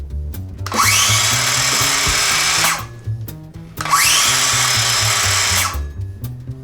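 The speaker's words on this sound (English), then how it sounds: "The most annoying power tool we have is the saw." A power saw runs loudly in a shed workshop, with two long, harsh whining bursts of about two seconds each separated by a brief pause. The sound is close and dominant, and no voices are present.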